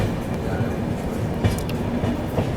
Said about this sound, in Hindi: तो 9:30 पर अपनी ट्रेन निकल चुकी है शाहगंज